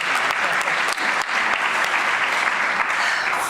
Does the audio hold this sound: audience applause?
yes